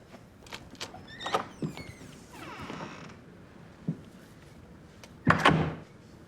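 A door creaks and mechanically clunks as it opens, with a few sharp clicks, a drawn-out squeal of hinges and a louder thump near the end, all fairly quiet and close.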